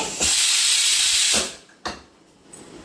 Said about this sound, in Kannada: 3-4 ವಿಷಲ್ ತಗೋತೀನಿ